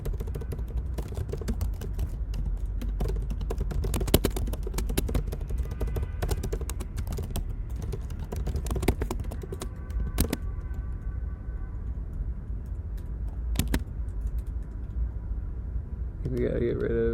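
Keys clattering on a computer keyboard during a coding session, a steady stream of quick taps with occasional louder strokes, close by, running under conversation between people.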